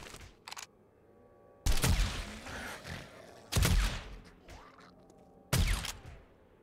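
Gunshots at a target shooting range in 7 Days to Die, three loud sharp bursts spaced about two seconds apart with a smaller crack early on, over a quiet background.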